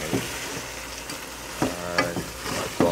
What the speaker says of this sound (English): you can mix up the duck with the masala